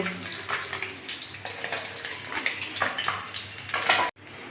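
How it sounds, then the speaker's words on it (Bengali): Tilapia fish pieces sizzle in hot oil while being lifted out one by one, a steady close hiss with scraping and clinks that cuts off abruptly near the end. "মাছগুলো ভাজা হয়ে গেছে আমি একটা একটা করে তেল ঝরিয়ে তুলে নিচ্ছি একটা প্লেটে"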